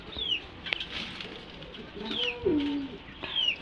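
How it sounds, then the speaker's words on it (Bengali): Homa pigeon chicks cooing at close range in a small indoor bird room, giving several soft, drawn-out coos spread across the clip over faint background noise. "সেই হুমার বাচ্চাগুলো ছেড়ে দিয়েছি এখানে তারা ঘুরতেছে"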